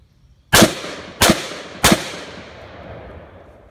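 Three sharp, loud rifle shots fired in semi-auto through a Franklin Armory BFS3 trigger, spaced roughly evenly over about a second and a half, each with a short decaying echo outdoors.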